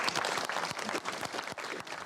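Audience in a hall claps to welcome the Countess of Wessex, a dense, even patter of many hands heard faintly from a distance, continuous throughout.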